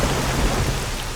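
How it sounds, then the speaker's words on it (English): Heavy thunderstorm downpour in the video game STALKER, a dense steady roar of rain with low rumbling underneath, loud and continuous with no voices. "The next you could have downpour with lightning as you get chased by a goddamn pack of wild"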